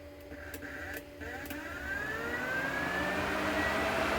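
A battery-powered cooling fan runs inside a Cinquecento, its steady whirring whine climbing in pitch as it spins up over a broad rushing hiss of air, close and getting louder throughout.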